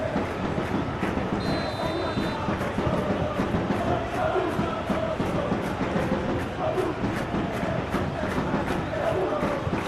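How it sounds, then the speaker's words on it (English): Stadium crowd in a PES football video game, a dense continuous roar of many voices with restless, frustrated murmuring after an offside call, steady and fairly loud throughout, with commentary speech over it. "You can hear the annoyance in the crowd."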